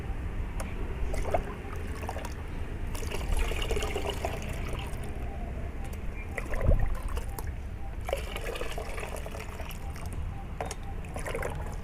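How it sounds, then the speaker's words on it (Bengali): Water poured and mixed into an organic fertilizer solution for a hibiscus plant, a soft continuous splashing and trickling in a container with occasional stirring knocks, close and without talk. "তার মধ্যে আমি আরও জল মেলাবো"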